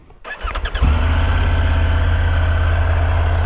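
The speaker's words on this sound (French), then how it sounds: "Je vais te mettre la moto en marche." A motorcycle fitted with Lone Rider luggage starts up with a brief cranking whir, then settles into a loud, steady, close idle with an even low pulsing rumble.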